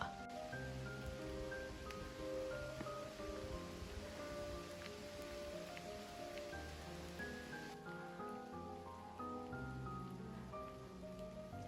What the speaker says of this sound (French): il va pleuvoir. Il pleut.